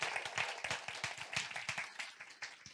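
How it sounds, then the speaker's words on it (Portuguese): An audience claps together in a sustained round of applause at a ministry event honoring a staff member, dense overlapping hand claps that stay loud and steady throughout with no voices over them. "a Estela, pedir uma salva de palmas a ela pela dedicação."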